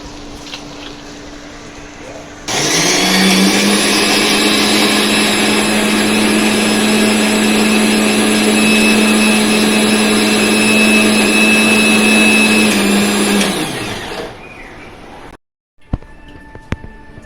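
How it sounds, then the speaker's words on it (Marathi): Kitchen mixer grinding a paste of chillies and tomatoes starts abruptly, whines loud and steady for about eleven seconds, then winds down, followed by a few clicks and light handling noises. "मिक्सरमध्ये वाटून घेऊ ते वाटण करू"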